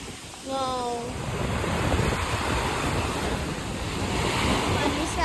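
Ocean waves wash steadily onto a Goa beach, a near, continuous surf roar with wind noise, after a brief moment of a voice singing at the start.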